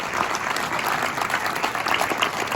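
Audience applauding in a meeting hall, a dense, steady wash of clapping that stays loud and even from start to finish with no voices over it.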